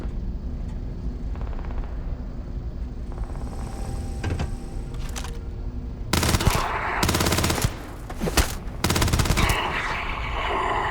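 Bursts of rapid automatic gunfire in Starfield crackle in several loud clusters, with a steady low rumble and hum in between.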